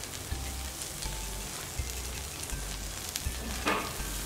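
Squid coated in miso with its innards grilling over a charcoal shichirin, giving a steady, fairly quiet sizzle and crackle with a few soft low knocks throughout.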